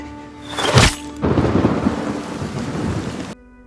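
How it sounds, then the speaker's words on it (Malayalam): Rain pours steadily as a sharp crack of thunder bursts early on, followed by a loud continuous rainfall hiss that cuts off abruptly near the end. "ആ നിശ്ചലമായ മഴത്തുള്ളികൾ വീണ്ടും പെയ്യാൻ തുടങ്ങി"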